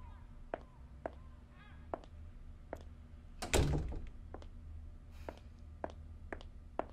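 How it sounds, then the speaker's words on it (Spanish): A door closes with a single dull thunk partway through, set in a quiet indoor room among faint scattered ticks and clicks. "Entra y cierra la puerta."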